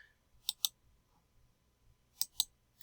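Two quick pairs of crisp computer clicks, like a mouse button or keyboard keys pressed at a desk, each pair a sharp double tap separated by a quiet pause of under two seconds.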